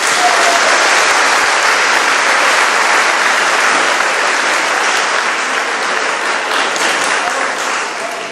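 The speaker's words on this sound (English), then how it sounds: "Let's give our amazing students and faculty a big round of applause." Audience at a high school awards ceremony applauds steadily and loudly throughout, a dense wash of many hands clapping that eases slightly toward the end, with no speech over it.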